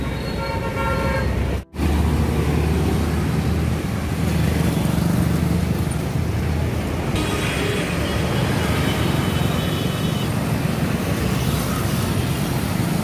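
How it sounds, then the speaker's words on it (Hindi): Heavy, steady street traffic near the state assembly in Hazratganj, Lucknow, with a constant roar of engines and honking horns, loud and close, broken by a brief dropout near the start. "आवाज़ थोड़ी धीमी हो सकती है बिकॉज यहाँ बहुत शोरगुल है, ट्रैफिक है बहुत"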